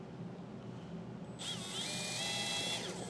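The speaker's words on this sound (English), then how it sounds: "I have a small drill bit just to drill a pilot hole right in the center of my mark." A small power drill with a small bit drills a pilot hole, whirring up suddenly after a quiet moment, spinning with a high, close whine for a couple of seconds before easing off.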